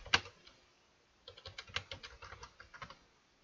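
A computer keyboard is typed on while a command is entered in a Kali Linux terminal: one sharp key click, a pause of about a second, then a quick burst of steady, close clicks and clacks.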